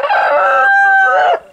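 A farm bird among broiler hens gives one loud, sustained crowing call, close and clear, lasting over a second before cutting off.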